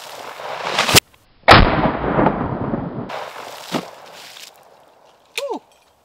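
An Ishapore 2A rifle fires a .308 round at steel and water targets outdoors, two sharp close blasts with rolling echoes, followed later by a brief high whistle.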